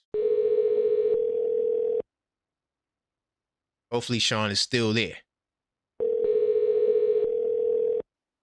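A steady telephone ringback tone on a call-in phone line sounds in two loud two-second bursts separated by silence, and someone speaks briefly in the gap between them.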